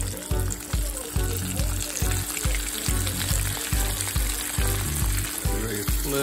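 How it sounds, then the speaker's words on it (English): Crappie and bluegill fillets frying in a pan over high heat, a loud, continuous crackling sizzle with rhythmic low thumps, close up and with no talking. "just lay the fish down away from me. Turn the fire up, get it nice and high."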